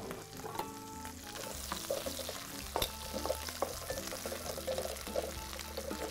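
Mushrooms and peanuts fry and sizzle in a pan as a utensil stirs them, with scraping clicks and bursts of crackle over a steady low hiss, fairly close and moderately quiet.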